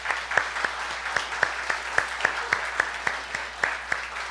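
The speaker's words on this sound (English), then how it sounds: "can we just give a round of applause for all our elves that help out?" A round of applause for the church ushers, youth and helpers, sparse and rhythmic with distinct individual claps ringing out over a steady patter from a modest congregation.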